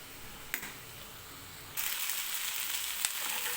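Tomatoes and chillies frying in oil for a Marathi-style dry capsicum dish give a steady close sizzle that grows louder and denser partway through, with a couple of sharp crackling pops.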